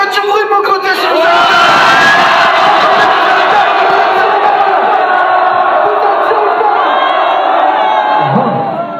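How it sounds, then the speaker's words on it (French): Concert crowd at a 1995 show in Lille roaring, cheering and shouting loudly and continuously, a dense wall of voices close up for the whole stretch. "Faites du bruit de mon côté, s'il vous plaît."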